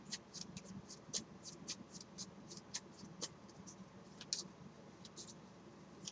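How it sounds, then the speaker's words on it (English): Soft, repeated riffling and slapping of playing cards being shuffled, close and quiet, in short irregular bursts. "You guys can hear me shuffling in the background there."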